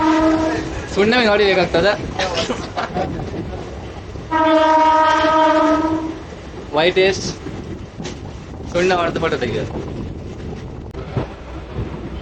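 A passenger train passes close by, sounding long harmonic horn blasts in several bursts over rumbling wheels and clattering carriages, while people talk and shout nearby.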